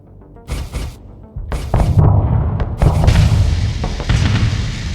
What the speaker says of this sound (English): Fire enough Sabot for the enemy ships to overload its shields.